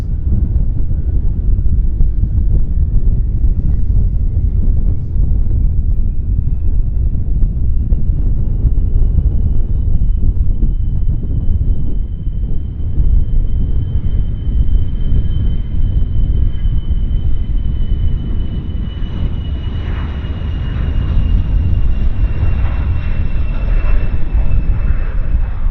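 A WestJet Encore Q400 turboprop airliner roars steadily at an airport, a loud, continuous engine drone with a rising whine over heavy wind rumble, holding strong for the whole stretch.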